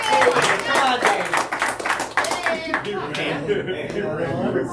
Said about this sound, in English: can we get a round of applause for Dave?